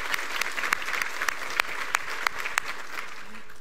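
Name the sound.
audience applause at ceremony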